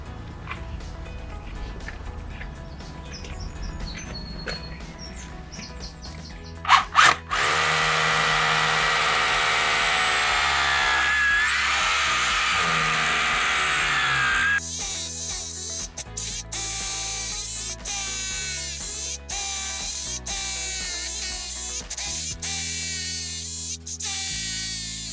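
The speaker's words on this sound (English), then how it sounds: "all I've done there is I've gone round the brick using the drill bit to take as much of the mortar joint out" Power drill with a masonry bit grinding out the mortar joint around a single brick, a loud sustained whir starting after a few seconds, steady then slightly lower in pitch, close up with no talking.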